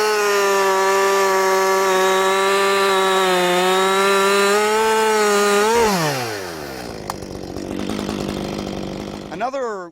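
A chainsaw cuts into a tree over a wedge, its engine holding a loud, steady whine, then dropping in pitch and winding down to a rough idle before a brief rev near the end.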